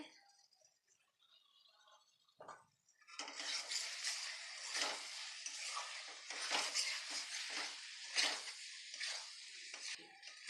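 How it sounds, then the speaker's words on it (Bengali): Spiced chicken masala with chilli, coriander and roasted cumin being stir-fried in a pan, with a spatula scraping and clattering against the metal in repeated strokes, close and fairly loud after a quieter start. "ভালো করে কষিয়ে নিচ্ছি।"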